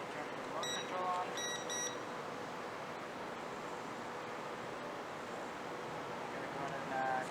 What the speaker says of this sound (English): I'm going to turn the remote control on.